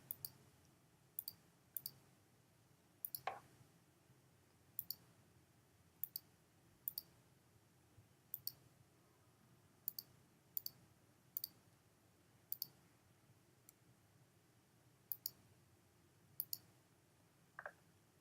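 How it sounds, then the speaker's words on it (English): A computer mouse is clicked repeatedly while making a selection in Photoshop, producing faint, sharp single and double clicks spaced about a second apart in a quiet room. "you have to pretty much go around and click along the edges of this pen"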